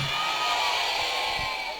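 Audience at a humorous Javanese-language religious sermon, a continuous wash of crowd applause and cheering, moderately loud and steady throughout, with faint voices mixed in.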